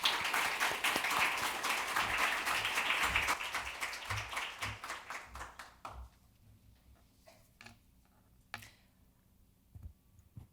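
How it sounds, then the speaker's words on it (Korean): Audience applause at an international DMZ peace economy forum welcoming a guest lecturer, dense clapping for about six seconds before thinning into scattered claps and quiet room sounds. "예, 박수로 청해 듣도록 하겠습니다."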